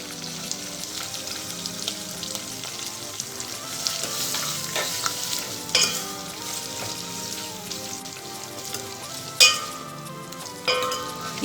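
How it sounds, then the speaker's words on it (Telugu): Onion pieces fry in the tempering oil for Andhra-style pappu charu, a steady close sizzle broken by a few sharp clinks of a stirring spoon against the pan, with no talking. "తాలింపు కొద్దిగా మగ్గిన తర్వాత ఉల్లిపాయ ముక్కలు వేసుకోవాలి"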